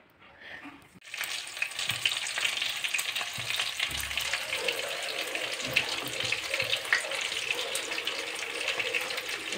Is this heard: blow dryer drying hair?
no